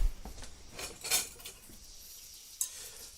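A bowl of chunky rustic potato salad being stirred with a spoon, producing a few scraping clinks and soft wet mixing sounds, close and fairly quiet.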